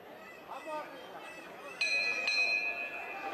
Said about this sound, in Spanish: Y de nuevo Andrés Calvo, que toca la campana, y la Virgen del Mayor Dolor entra en tribuna.